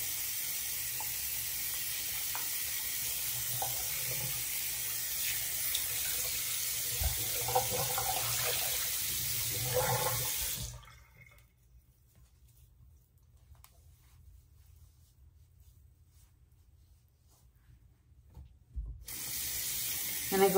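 Tap water runs steadily into a bathroom sink during a skincare rinse, a continuous close splashing hiss that cuts off about halfway through, leaving near silence before a brief return at the end.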